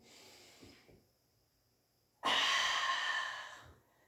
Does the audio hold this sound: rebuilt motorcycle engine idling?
no